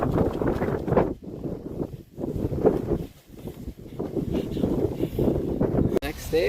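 Gusty wind roars across the microphone in an open Wyoming trail setting on the Continental Divide, surging and dropping in waves while a sleeping bag is fluffed out in it.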